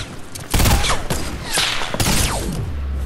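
Gunfire in Fortnite, three sharp loud shots or short bursts spaced about half a second to a second apart, each trailing off with a brief ringing tail.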